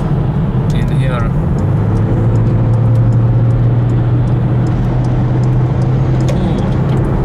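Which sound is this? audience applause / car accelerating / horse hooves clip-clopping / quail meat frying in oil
car accelerating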